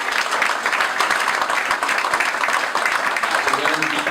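Steady, dense applause from a crowd at a church gathering, clapping continuously and evenly at close range, with a voice speaking over it near the end.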